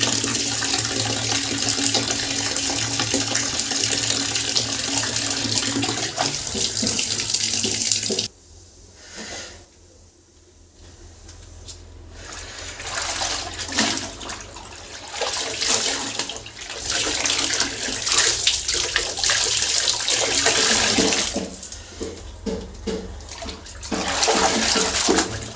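Water splashing and running in a bathroom as clothes are washed by hand, a continuous gushing stream broken by a short lull, then resuming with sloshing bursts.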